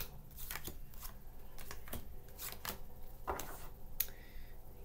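Holographic tarot cards being shuffled by hand, a quiet run of soft riffling slaps and flicks in uneven bursts, close and alone in a calm room.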